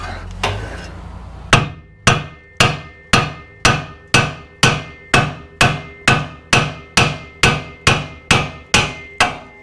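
A hammer strikes a steel pickup truck spindle to knock a ball joint loose, sounding as loud, ringing metallic blows in a steady rhythm of about fifteen evenly spaced hits, each decaying quickly.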